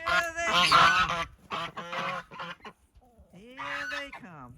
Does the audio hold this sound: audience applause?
no